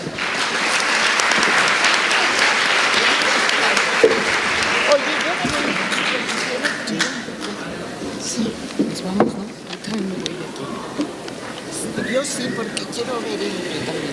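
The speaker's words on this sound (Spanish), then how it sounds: "Les pido por favor un fuerte aplauso." An audience at a panel talk on ties between Mexicans at home and abroad gives a hearty round of applause that fades after several seconds, giving way to a speaker talking into the room with a few stray claps.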